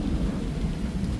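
Thunder rumbling through a storm with rain, a deep continuous roll that stays loud and heavy throughout, with no break and no voices.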